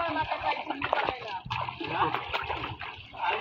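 A person wades through floodwater after heavy rain, with repeated splashes and sloshing close by, heavy and uneven, under a murmur of voices.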